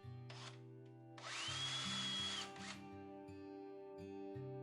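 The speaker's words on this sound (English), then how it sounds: "I pre-drilled a hole in each" A power drill bores a pilot hole into the end of a wooden desk leg, whining in two close bursts with a louder, steadier run that ramps up and winds down, near and alone.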